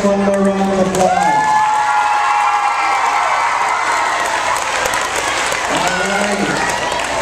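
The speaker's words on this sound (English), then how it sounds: "West Palms, let's give them one more round of applause." A school pep rally crowd claps and cheers with scattered whoops and shouts, a bright sustained roar of applause while a voice speaks briefly over it.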